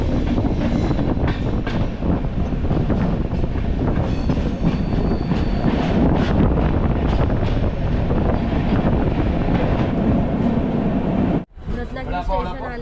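Konkan Railway passenger train on the Mumbai to Konkan route, heard from aboard as a loud, steady rumble with wind noise and faint clickety-clack that persists for most of the stretch before a sudden brief drop near the end.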